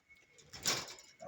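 A single soft pigeon coo, or a brief breathy call from a fancier's pigeons, rises briefly and close by amid faint background rustle.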